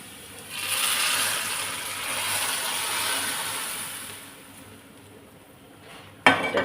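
Hot panch phoron tempering is poured into cooked dal, giving a close, steady sizzling hiss that swells and slowly fades, followed by a sharp metallic clatter of a pot or utensil at the end.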